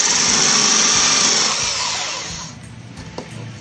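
A power drill bores holes into a bucket for an aquaponics build: a loud, steady whirring grind for about two seconds that winds down and fades, leaving a quieter tail with a faint click.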